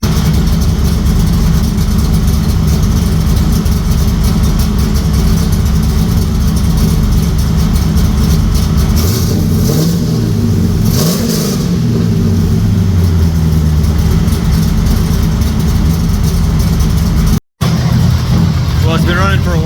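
A 1995 Camaro Z28 engine, first run in 12 years, runs at a steady idle throughout, with a brief rise in revs midway and voices talking faintly over it.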